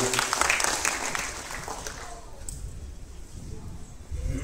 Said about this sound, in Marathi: तर त्यांच्यासाठी देखील एकदा जोरदार टाळ्या वाजवा.